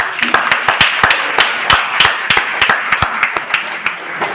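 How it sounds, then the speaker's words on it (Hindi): Loud applause from a network marketing training audience, with distinct sharp individual claps standing out close by over a continuous bed of crowd clapping, sustained for over four seconds. "जोरदार तालियां हो जाए"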